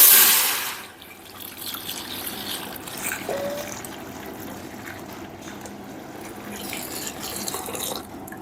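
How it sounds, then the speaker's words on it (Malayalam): Milk poured into a heated uruli for payasam, a brief loud pour at the start that fades into a soft, steady trickling liquid sound with faint background noise, no voices. "അപ്പോൾ അതിലേക്ക് പാലൊഴിച്ചു കൊടുക്കാം."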